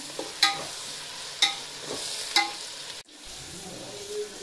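Chopped onions with salt sizzle steadily in a hot pan, with three sharp scrapes of a spoon stirring them at regular intervals, then a brief pause and a softer, continuing fry.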